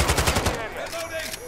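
Rapid bursts of automatic gunfire from the Modern Warfare 2 beta video game, loud and close in the first half-second, then giving way to quieter game sounds and electronic tones.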